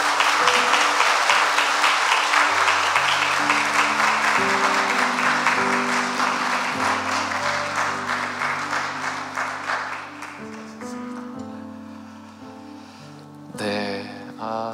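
A congregation applauds loudly during a Korean church's Sunday worship service, with sustained keyboard music beneath the clapping; the applause gradually thins and fades, and a brief burst of sound rises near the end.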